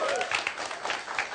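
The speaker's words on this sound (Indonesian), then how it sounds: "Tepuk tangan untuk kedua calon kita." An audience at a public debate for the Bantul regent and deputy regent election applauds both candidates, a brief, fairly dense burst of clapping with some crowd murmur.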